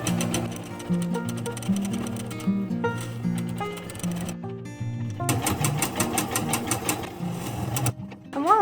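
A sewing machine runs close and steadily for several seconds while stitching an order for a small business, with its rapid mechanical chatter shifting speed and briefly pausing between runs.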